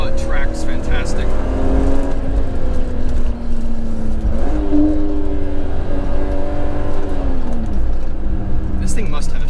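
A rare, lightweight BMW engine pulls hard while driving on a highway, its tone rising and falling through gear changes as the driver speaks over it.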